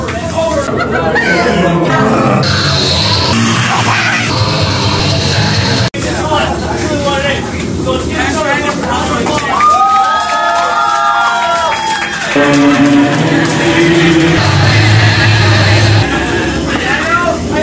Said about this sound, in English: So that's a round of applause to each and every one of you scumbags that come in every night